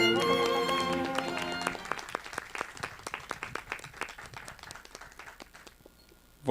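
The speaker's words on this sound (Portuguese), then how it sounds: "Uma salva de palmas ao Michael Grease." An audience at a Senac Copacabana class applauds. After a brief tonal passage, dense, steady clapping builds and continues with scattered sharp individual claps before fading near the end.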